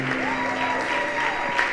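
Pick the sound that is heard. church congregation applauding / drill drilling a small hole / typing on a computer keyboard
church congregation applauding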